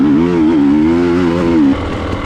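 Motorcycle engine held on the throttle during a prospector race, a loud steady buzzing drone with a slight wavering pitch that cuts off abruptly near the end.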